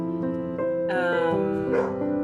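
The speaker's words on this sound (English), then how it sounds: "And that's my dog in the background." A dog barks in the background of a room during a cross-stitch session: several sharp, loud barks in quick succession, heard over a steady hum.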